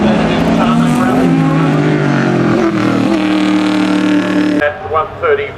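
A Datsun 240Z tarmac rally car at the Leyburn Sprints holds a loud, high-revving engine note before it abruptly drops away, with a commentator talking over it.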